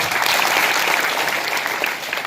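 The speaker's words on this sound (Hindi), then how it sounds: "तालियों से इनका सम्मान करें" Dense, sustained applause from a seated audience at an anti-addiction seminar, loud and steady throughout with no talk over it.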